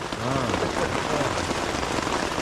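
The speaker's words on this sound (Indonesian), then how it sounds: "Setiap pada anggota baru masuk, hujannya pasti lebat." Heavy rain pours down in a forest as a dense, loud, continuous hiss, with voices talking faintly beneath it.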